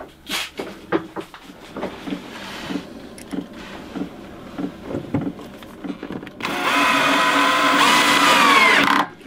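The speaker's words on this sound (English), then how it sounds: "Is there too much torque on the drill?" A power drill drives screws while a table is installed aboard a sailboat: scattered knocks and handling clatter, then a sustained whirring drill run of a few seconds near the end, close by.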